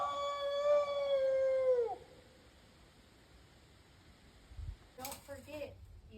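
A person imitates a Bigfoot howl, a loud sustained wavering cry lasting about two seconds that drops off sharply at the end, then a stretch of near quiet followed by brief faint knocks and rustling.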